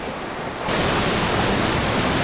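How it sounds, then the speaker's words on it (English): Turbulent water churning at the bottom of a waterfall in Labrador, a loud, broad rushing roar that jumps up sharply in level after a quieter opening and then holds steady and close. "Coming to you live from the bottom of the waterfall. The water is crazy turbulent in here"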